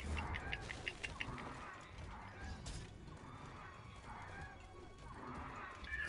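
Game audio from Monster Hunter: World, with a horse-like monster's clip-clop hooves, neighing cries and mechanical clanks repeating in an uneven rhythm. The sounds are fairly faint and sit under a busy mix.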